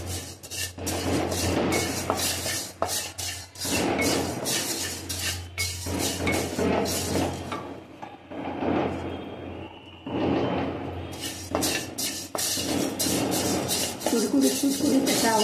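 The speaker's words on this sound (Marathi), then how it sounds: "कुडकुडीत कुडकुडीत असा आवाज यायला लागला." Fenugreek seeds crackle and scrape as they dry-roast in a pan for ladoos. The dense, steady crackling continues throughout, thinning briefly in the middle before returning at full strength.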